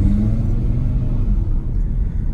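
A car engine and exhaust rumble steadily and loudly up close, with a deep continuous low drone that holds without a break.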